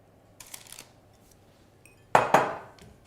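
A spatula pushes a mixture into the corners of a slice pan, giving soft faint scrapes followed by two loud metallic clanks and a ringing decay near the end.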